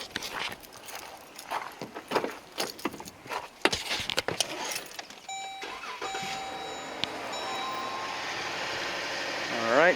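A 2011-2015 Jeep Grand Cherokee fitted with a K&N cold air intake cranks and catches after some clattering handling noises and a voice, then settles into a steady idle that swells slightly at the end.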